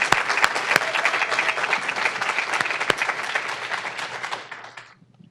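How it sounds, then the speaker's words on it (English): A crowd at a PsyD pinning and hooding ceremony applauds steadily with dense clapping for several seconds, then the applause fades out toward the end. "How about a round of applause?"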